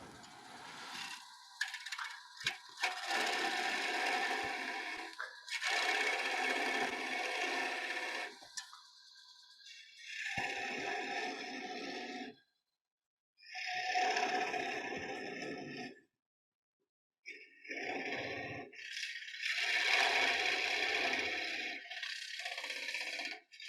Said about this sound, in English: You can hear that inclusion bumping as I'm going down in here.